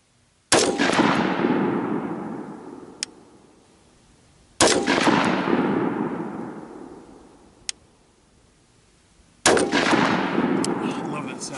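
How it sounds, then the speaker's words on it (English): An AR-15 rifle fires three single rounds several seconds apart, each a sharp, loud crack that decays into a long echoing tail, with a faint metallic clink after the first two shots. "A properly gassed rifle will go kunk on that last round, and it sends a frequency through the gun that just feels like a tuning fork"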